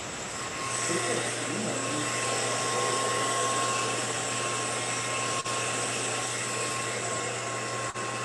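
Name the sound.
hair dryer blowing hard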